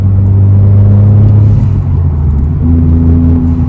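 A Subaru WRX sports car is driven along with a steady, close, low engine rumble that holds a deep drone and shifts pitch slightly partway through.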